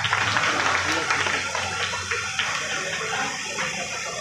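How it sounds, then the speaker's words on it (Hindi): A crowd at a Hind Aman Party gathering in Dayalpur, Delhi, breaks into loud, dense applause, a sustained wash of many hands clapping that stays steady throughout. "जोरदार तालियों से स्वागत।"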